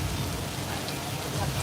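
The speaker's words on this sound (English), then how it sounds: "our rain is a very complicated and intricate system called sprinklers that we put on top of a really big pole that lets the water fall down naturally" Artificial rain pours from sprinklers mounted on a tall pole, a dense, steady patter and hiss that stays loud and even through the short stretch.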